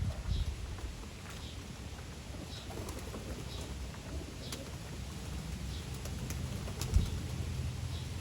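Young racing pigeons and SV pigeons walk about a yard early in the morning, giving soft coos and faint wing and foot sounds over steady outdoor ambience, with no talking.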